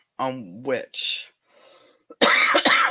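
A couple of harsh coughs and throat-clearing bursts break up a voice, followed by a loud, rough cough-like vocal burst near the end.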